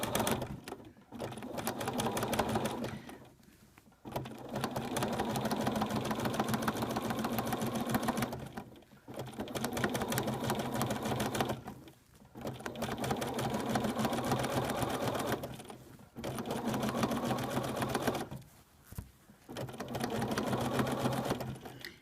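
Sewing machine quilting with invisible thread in straight stitch, running in several long, steady bursts of fast needle chatter separated by short pauses, fairly quiet and close, with no speech.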